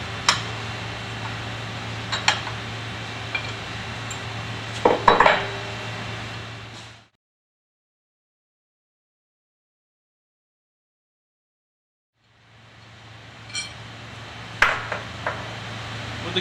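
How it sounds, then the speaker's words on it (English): Metal tools clink and tap while cover bolts are removed from a Viking Model F-1/F-2 dry valve. Sharp clanks come in scattered bursts over a steady hum, broken by several seconds of silence before the clinking resumes. "At this point, we will now need to remove the cover bolts from the cover."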